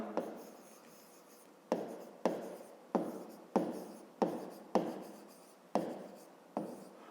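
Handwriting on paper while working a fifth-grade maths exercise: about nine quick scratchy bursts of pen strokes in an uneven rhythm, close and clear, with no talking.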